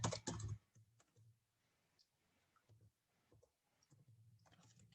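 Soft, uneven keystrokes typing a project name on a computer keyboard, faint taps spread across the clip after a louder burst at the start.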